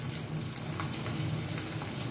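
Green chillies fry in hot oil in a frying pan, giving a continuous dense sizzle and crackle at moderate loudness with no voices.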